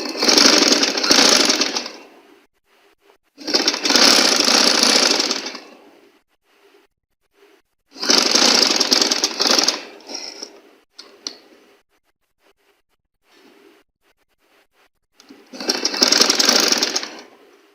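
A sewing machine stitches along a suit neck design in four loud, even bursts of rapid clatter, each about two seconds long, with quiet pauses and faint handling noises between them.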